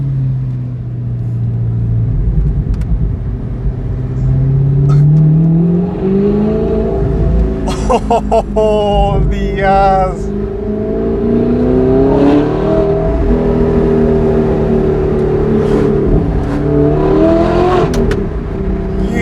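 A straight-piped Audi R8 V8 screams through loud, rising revs, then crackles and pops on the overrun between throttle blips, close and dominant, with a brief shout partway through.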